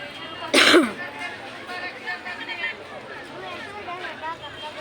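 A single sharp cough rings out close by, followed by quiet background chatter and distant voices.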